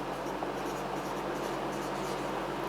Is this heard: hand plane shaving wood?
no